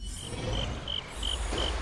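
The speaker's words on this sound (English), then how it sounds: "Ooh, listen to those crickets." Crickets chirping in the Honkai: Star Rail video game, a series of short, regular high chirps over a soft ambient background.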